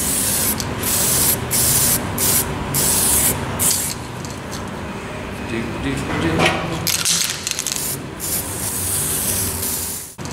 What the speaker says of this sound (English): We're gonna pull it out and put the copper weld through primer on it.